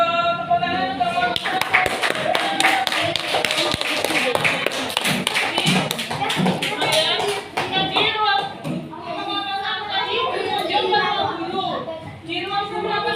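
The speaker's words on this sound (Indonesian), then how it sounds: "Tepuk tangan untuk" Classroom applause as students clap together after a group presentation, a dense steady patter of many hands lasting several seconds, with children's voices and chatter mixed in throughout.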